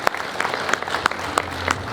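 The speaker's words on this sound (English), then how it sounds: "Ladies and gentlemen, please give these guys a big round of applause" An audience applauds for Farmtruck and AZN at a content creator stage at PRI 2022, a steady close patter of clapping with a few sharp individual claps standing out.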